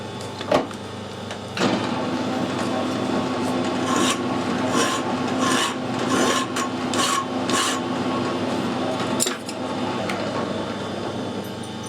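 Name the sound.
cutting threads on an adjustable spanner part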